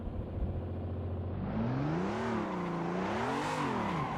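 A drift car in Assetto Corsa revs hard and spins out, the engine note climbing and swinging up and down in loud, close waves with tire noise underneath.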